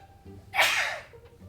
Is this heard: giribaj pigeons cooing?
no